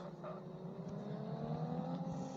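A BMW engine idles and runs steadily with a smooth, faint hum, its pitch shifting slightly, heard from inside the parked car just before shutdown.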